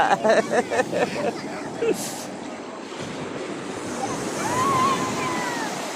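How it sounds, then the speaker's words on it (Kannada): Ocean waves surge and crash at Someshwar beach during the monsoon, a steady roaring wash with wind noise, while people talk loudly over it in the first seconds. "ಆ ತೆರೆಗಳ ಆರ್ಭಟ ಈ ಮಳೆಗಾಲದಲ್ಲಿ ಸ್ವಲ್ಪ ಜಾಸ್ತಿ ಇರುತ್ತೆ"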